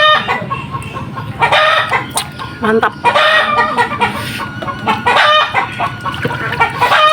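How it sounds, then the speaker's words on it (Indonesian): Chickens cluck close by in a village, with repeated irregular bursts of clucking and squawks over a busy background and a brief spoken word. "maklum di kampung banyak ayam tuh"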